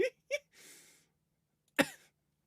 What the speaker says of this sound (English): if you occasionally hear me cough